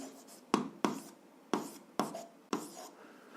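A pen writes out an algebra solution by hand on paper, giving six distinct scratchy strokes and taps at an uneven pace, close and quiet.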